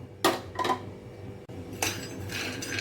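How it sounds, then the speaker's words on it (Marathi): Peanuts being dry-roasted and stirred in a hot kadhai, giving off short bursts of rattling and clinking against the metal pan at a close distance, with steady low kitchen noise between the bursts. "आता मी इथे शेंगदाणे भाजायला घेते."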